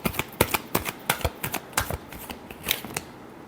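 Tarot cards being flash shuffled at close range, a quick run of crisp riffling bursts and soft slaps in an uneven rhythm, with no talking.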